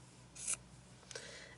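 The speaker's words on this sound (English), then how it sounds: "I'm using my nippers, but you get the idea" Nippers snip through quilt binding fabric in two quick, quiet cuts, the second about half a second after the first, with no talking.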